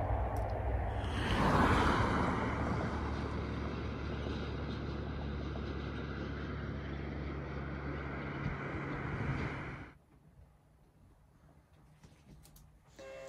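Passing car traffic rushes by in a steady, wave-like roar for several seconds, swells early, then cuts off to quieter surroundings with faint birds.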